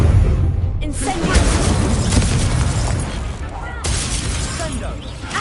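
Incendio fire spell cast in the Hogwarts Legacy video game: a loud, dense whooshing burst of flame and crackle that runs throughout, with a sharp break midway and a second surge after it, and no talk.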